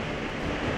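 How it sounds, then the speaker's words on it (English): Steady broadband rush of a waterfall in Iceland, a continuous roar of falling water with wind noise over the microphone, distant and even throughout with no talking. "That's the waterfall."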